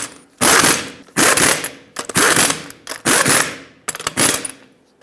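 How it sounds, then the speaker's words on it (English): A torque wrench tightens lug nuts on a 2018-2023 Subaru Crosstrek rear wheel, producing loud, close bursts of rapid ratcheting clicks in about six separate pulls. "torque them to 89 foot-pounds."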